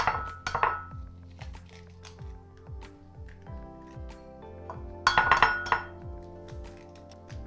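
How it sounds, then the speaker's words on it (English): Two eggs cracked against a bowl in a home kitchen, two distinct sharp clinking taps a few seconds apart with faint handling clatter between them, close and without talk. "Crack 2 eggs."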